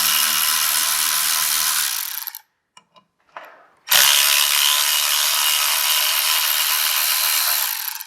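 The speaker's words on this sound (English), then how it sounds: "using a T27, go ahead and break these Helix bolts on the back off." Powered driver with a T27 bit breaking loose helix bolts on the back of an Ibexx clutch for a Polaris 850 Axys snowmobile, a loud steady whir for two seconds, a brief pause with small clicks, then another long sustained whir.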